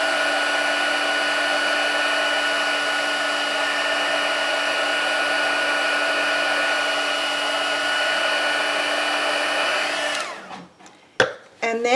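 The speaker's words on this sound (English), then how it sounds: "So if you take your heat gun and heat from underneath, it will soften the adhesive." A heat gun blows a steady, loud whirring roar beneath a craft card to soften adhesive, running for about ten seconds before cutting off, followed by a few sharp handling clacks.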